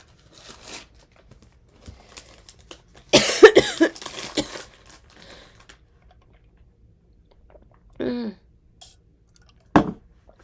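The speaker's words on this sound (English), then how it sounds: "I'm coughing too much." Harsh coughing bursts: a scattered few, then a long hacking fit, followed later by two separate single coughs, close to the microphone with quiet gaps between.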